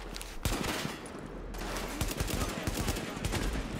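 Heavy gunfire in The Division video game, with dense overlapping bursts and sharp shots cracking continuously through a loud firefight, including machine-gun-like rapid fire.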